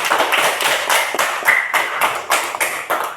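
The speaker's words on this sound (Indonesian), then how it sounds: "Tepuk tangan dulu kepada anak Gina." Pupils in a classroom clap for a classmate, loud rhythmic unison claps in a steady beat, close and alone with no talking.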